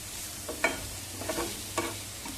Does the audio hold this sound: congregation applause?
no